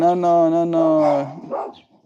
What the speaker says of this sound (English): They're just barking at nothing.